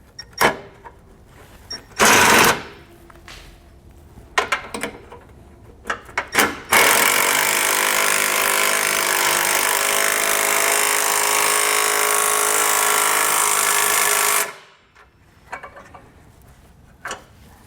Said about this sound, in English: We're now going to take ourselves a 9/16 socket and wrench to snug this hardware down.